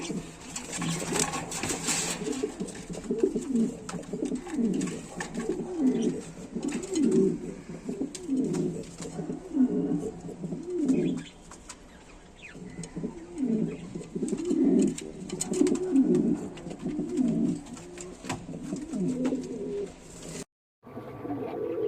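King pigeons, including a Black King pair, cooing repeatedly in a loft where a hen sits in a clay nesting pot, throaty rolling coos close by and continuous with no talk.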